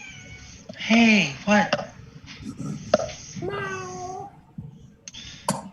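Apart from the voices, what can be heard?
cat meowing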